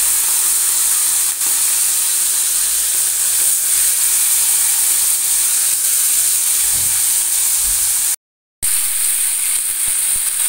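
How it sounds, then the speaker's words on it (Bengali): Prawns rubbed with salt and turmeric go into well-heated mustard oil in a wok, giving a loud, steady, close sizzling hiss that runs throughout and breaks off for a brief moment near the end. "তেল গরম হয়ে গেছে ভালো করে। চিংড়ি মাছগুলো কড়াইয়ের মধ্যে দিয়ে দিলাম।"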